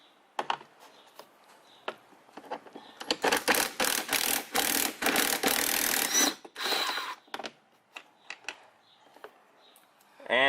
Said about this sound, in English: if you got the impact gun